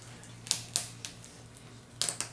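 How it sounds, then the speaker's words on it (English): Joints on a Hot Toys Thor action figure give off crisp ratcheting clicks, a couple of single snaps followed by a quick pair, close up over a low steady hum. "Nice click there."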